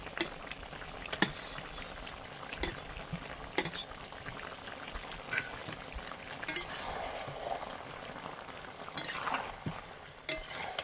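Pre-fried potatoes go into a hot pan and cook with a quiet, continuous sizzle and bubbling, broken by scattered clinks and scrapes of a utensil stirring against the pan.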